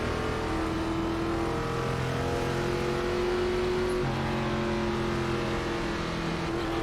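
A NASCAR ARCA Series race car engine in the iRacing simulator at Texas holds a loud, steady droning roar throughout, with no distinct gear change standing out.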